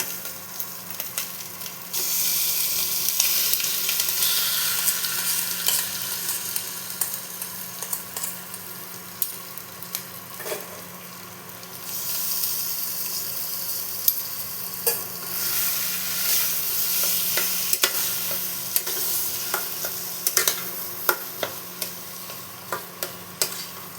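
Boiled potato and garlic paste being stirred and fried in a pan for an aloo bonda filling: a steady close sizzle broken by scraping strokes of the spoon, continuing throughout with no talking.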